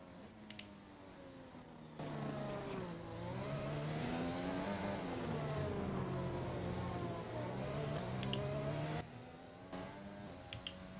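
A Formula 1 race car in the F1 2020 video game, racing at the Chinese Grand Prix, screams through rising and falling revs as it accelerates and shifts, loud and continuous for most of the stretch, with quieter moments at the start and end.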